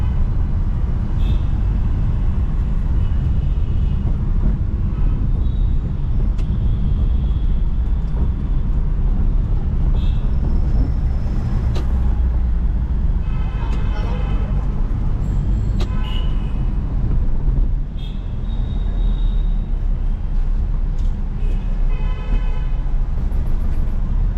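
A Hyundai Santro Xing accelerates, its engine giving a loud, steady drone with road noise and occasional higher tones from outside, continuous and without speech.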